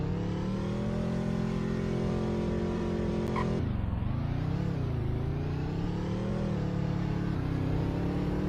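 A car in the Roblox game Greenville accelerates hard, its engine a loud continuous drone that drops sharply at a gear shift and then climbs again steadily, close and alone without talk.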